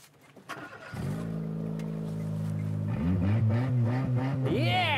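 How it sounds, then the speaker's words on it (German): A car with its exhaust removed starts up with a loud rough bark, idles steadily, then revs repeatedly in sharp rising bursts, up close and raw. "jetzt müssen wir erstmal uns anhören, wie sich das Fahrzeug nach der Entnahme des Auspuffs anhört"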